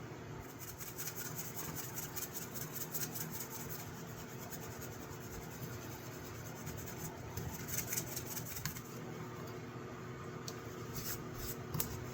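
Mothers metal polish rubbed onto a serpentine pocket knife with a cloth, a faint continuous scratchy rubbing with quick back-and-forth strokes, close and quiet.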